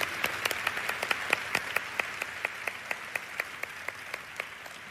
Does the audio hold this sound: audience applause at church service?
yes